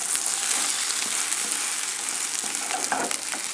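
Sardine and Kalamata olive omelet cooking in a non-stick pan over a very low flame gives a steady, close, even sizzle that holds without a break from start to end.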